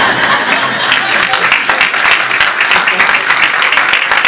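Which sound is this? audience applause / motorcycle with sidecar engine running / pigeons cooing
audience applause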